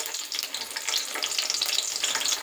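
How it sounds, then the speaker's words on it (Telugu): Chopped onions dropped into hot oil for chicken curry, a continuous bright hiss and crackle of frying, close and steady with no talk. "కొంచెం ఆయిల్ వేసేసుకుందాం. కట్ చేసి పెట్టుకున్న ఉల్లిపాయలు వేసేసుకుందాం."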